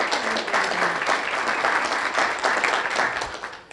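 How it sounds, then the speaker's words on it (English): Sustained audience applause at a talk on software accessibility in Berkeley, a dense, even roar of many hands clapping that continues steadily throughout. "So I want everybody to give Berkeley a round of applause for having a great accessibility environment."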